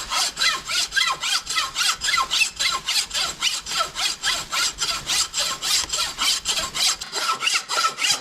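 A hand saw cutting through the back of a deer skull, a loud, close, rhythmic rasping in quick regular strokes, about three per second, continuing steadily without talk.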